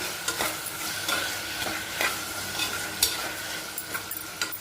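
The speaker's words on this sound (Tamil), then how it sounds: "இப்போ நான் உருளைக்கிழங்கு ஆட் பண்ணிட்டு காட்டுறேன் ஒரு வதக்கு வதக்கி விட்டுருங்க" Potatoes sautéed and stirred in a pan for a home tiffin-box dish, giving a steady close sizzle of frying broken by repeated scraping stir strokes, with no talking.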